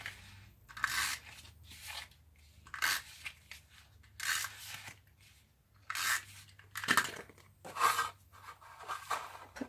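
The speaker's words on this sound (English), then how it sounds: "So let's get our tape on here." Tape is pulled and pressed onto a birthday card box in a series of soft, close crackling and ripping strips, with irregular rustles and taps between them and no talking.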